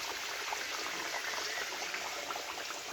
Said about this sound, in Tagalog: So, ito ipiprito ko na lang.